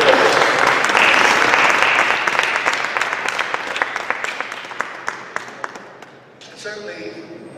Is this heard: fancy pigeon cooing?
no